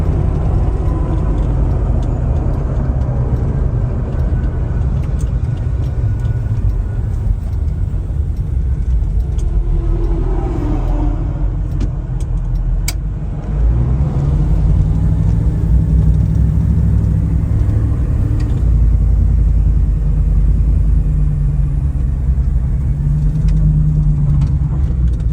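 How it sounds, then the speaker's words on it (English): Supercharged Godzilla V8 in a 1978 Ford Bronco, driving along with a steady low engine rumble and road noise throughout, a mid-clip swell as it pulls harder, old-school and continuous with no talk. "it really sounds like an old school motor compared to the Coyote"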